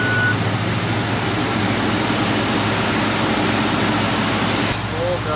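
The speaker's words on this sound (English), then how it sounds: "combine four-wheel drive test" A John Deere combine's engine drones loud and steady at close range while the machine undergoes a four-wheel drive test, a constant mechanical hum that runs unbroken throughout with no talk.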